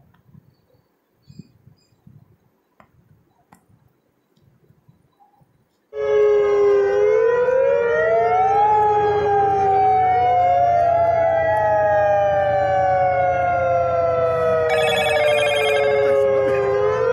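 A tsunami warning siren begins abruptly after quiet, then wails loudly and continuously with rising and falling tones for over ten seconds, with no talk over it.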